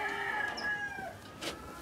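A rooster, an aggressive fighting cock, crows once in a drawn-out, wavering call close by, with a quieter cluck or squawk near the end against a faint farmyard background.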